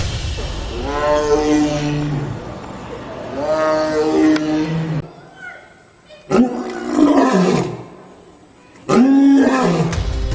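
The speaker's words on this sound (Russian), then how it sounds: "Рев льва, разносящийся в открытых саваннах Восточной Африки на огромные расстояния" A lion and a tiger roar in turn, several long, loud, close calls with deep groaning harmonics, separated by brief pauses and followed by shorter grunting bursts.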